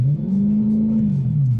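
A Mercedes CLK 63 Black Series engine, converted to a manual gearbox, revs and holds a steady, rumbling tone at about 3,500 RPM for a launch, close and loud, before easing slightly.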